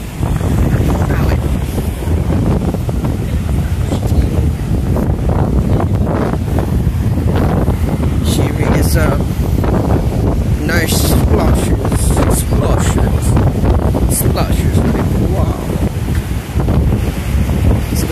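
Waves splash at the seashore near Toco lighthouse in strong wind, with a loud, steady roar of surf and wind buffeting the microphone throughout and a few sharper splashes, while people talk over it.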